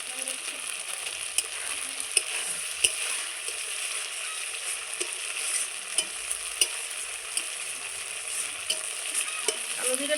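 Black cumin seeds land in a spice paste already fried down in oil for a Bengali tel koi fish curry, giving a steady close sizzle and crackle with occasional stirring clicks and no talk.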